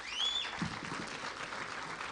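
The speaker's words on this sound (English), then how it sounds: "Give them a clap" Faint applause from an audience for GDC board members rises at a Kenyan public gathering, soft and distant, with a short whistle near the start and a brief vocal sound in the middle.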